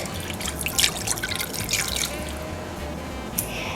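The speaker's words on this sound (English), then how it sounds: "So let's go ahead and add the broth." Broth pours over a bacon-wrapped pork roast in a pan, a soft, close, continuous trickle with light splashes and drips and no talking.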